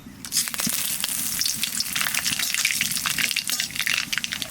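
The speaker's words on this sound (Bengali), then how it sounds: "তেলের উপর দিয়ে দেবো কালো জিরা তেজপাতা" Nigella seeds and bay leaf crackle and sizzle in hot oil for fish curry, a dense, steady frying hiss with sharp pops scattered throughout, close and fairly loud, no voices.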